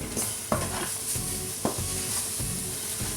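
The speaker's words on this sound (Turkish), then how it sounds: "Salçamla beraber biraz daha kavuruyorum." Flour and tomato paste roasting in a pan for Turkish arabaşı soup, with a continuous close sizzle broken by rhythmic scraping strokes of a stirring spoon roughly every second.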